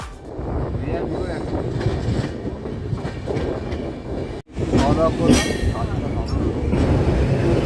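Darjeeling Mail train pulling into NJP station, a continuous rumble of rolling carriages with rhythmic clatter and brief squeals, a short dropout midway, then steady rail noise resumes.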